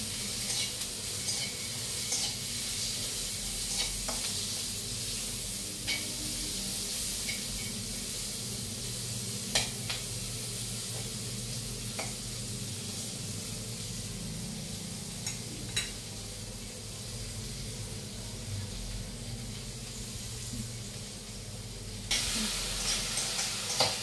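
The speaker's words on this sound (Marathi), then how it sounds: "भाजताना थोडंसं चिमूटभर मीठ, ज्यामुळे शेंगा लवकर भाजल्या जातील." Cluster beans roast with garlic and a pinch of salt in a pan, giving a steady close sizzle and hiss with occasional stirring scrapes and clicks throughout, and no talking.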